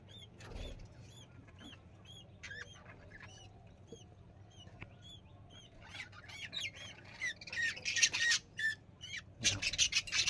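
A pet bird squawks in short, repeated sharp calls, sparse at first and then growing louder and more frequent, with brief bursts of several birds chattering close by.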